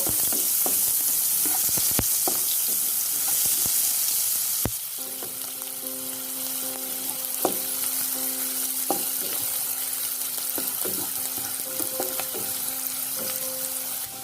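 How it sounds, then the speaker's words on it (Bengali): Steady crackling sizzle of chopped onions frying in hot oil, close and continuous, with occasional stirring clatter and a faint tonal hum joining midway. "বাকি তেলের ভেতর পেঁয়াজ কুচি দিয়ে দিচ্ছি। পেঁয়াজগুলো লাল করে ভেজে নেব।"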